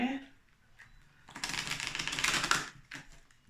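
Oracle cards cut and shuffled by hand in a card reading, giving a dense burst of papery riffling for about a second between quieter handling sounds, with speech at the start.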